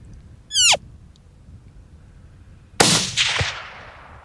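A single hunting rifle shot fires outdoors with a sharp, loud crack and a decaying echo, preceded earlier by a brief high chirping call.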